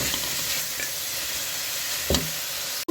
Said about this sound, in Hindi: अब इसके अंदर डालेंगे थोड़ी सी ये जो हल्दी है, और थोड़ी सी हल्दी डाल के मज़ीद इसको थोड़ा सा भून लेंगे